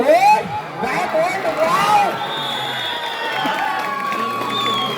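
Crowd cheering and applauding at a village kabaddi tournament during a Datta Jayanti festival. A loud, continuous roar carries shouts, whoops and whistles, peaking early and then holding steady.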